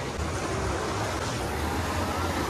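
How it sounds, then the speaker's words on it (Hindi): Fast-flowing water rushes at Dharara waterfall in Simultala, Bihar, a dense, loud, unbroken roar with deep rumble, close by and steady throughout, without audible talking. "देख सकते हैं कितना तेजी से पानी बह रहा है यहाँ पे"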